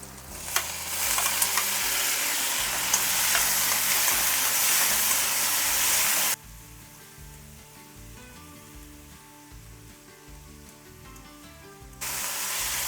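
Tomatoes fry in a pan, a loud bright sizzle for the first half, then a sudden drop to quiet low background before the sizzle returns near the end.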